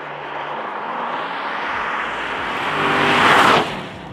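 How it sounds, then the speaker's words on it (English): A Mercedes-Benz SLK55 AMG with its V8 engine accelerates while driving, a loud close roar that rises steadily in pitch and intensity before easing off abruptly. "You can't beat a V8. You cannot beat it. Yeah, the soundtrack is mega."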